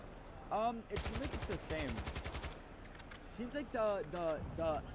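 Gunfire from the video game Call of Duty: Modern Warfare II, a rapid burst of automatic shots followed by a second burst, with someone talking before and after the shooting.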